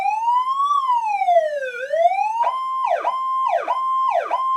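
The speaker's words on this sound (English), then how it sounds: "you can rotate through the siren tones by just pressing the air horn button" A Powercall DX5200 electronic siren cycles through its tones, first a slow rising and falling wail, then a loud rapid repeating yelp, heard close and alone.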